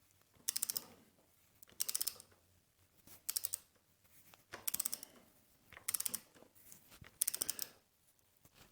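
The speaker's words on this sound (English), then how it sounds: "we're going to torque these down to 10 Newton meters." A torque wrench ratchets bolts down on a Royal Enfield Bullet 500 B5 engine in six short bursts of rapid clicking, each separated by a pause, close and fairly quiet.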